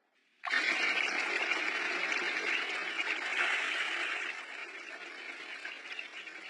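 Bath water gushes suddenly into a tub in an anime scene, a loud, steady, hissing pour that settles slightly softer after a few seconds and runs on alone.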